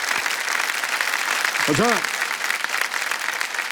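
A studio audience applauds a contestant on the hot seat of a television quiz show, steady clapping throughout while a voice briefly speaks over it near the middle.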